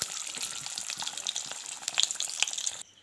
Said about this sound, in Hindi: ये देखिए गाइस, मैंने अंडे को सब फ्राई कर दिया।